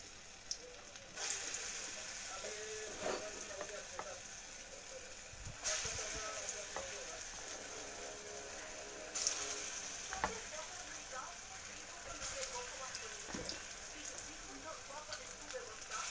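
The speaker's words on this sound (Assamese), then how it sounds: "ডাৱৰীয়া বতৰ যিহেতু গৰম গৰম পকৰি বনাই আছোঁ চাহৰ লগত জুতি ল'বলৈ।" Hot pakoras fry in oil with a constant bright sizzle and bubbling, broken by occasional louder surges and a few soft stirring knocks, close but fairly quiet.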